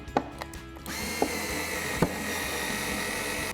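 Power screwdriver driving screws into a kitchen cabinet door to fix a handle: a few short clicks and taps, then a steady mid-level whir of the motor running continuously with small knocks, fairly close.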